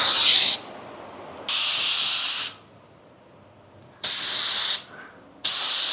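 An automotive spray gun lays metallic base coat in overlapping passes, making loud close bursts of hissing spray, four separate passes with quiet gaps between them.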